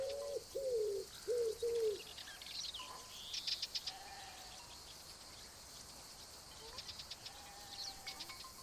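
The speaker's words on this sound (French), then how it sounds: "J'espère que le bruit de l'oiseau vous casse pas la tête, parce qu'on l'entend vraiment bien" A bird gives four quick, close cooing calls in a row, followed by scattered higher chirps and a few softer coos over a faint outdoor background.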